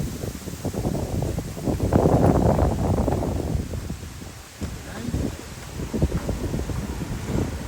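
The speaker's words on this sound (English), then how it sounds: "sorry it's a bit windy" Gusty wind blowing across the microphone in Hyde Park, London, a loud rumbling buffet that swells and eases in waves throughout.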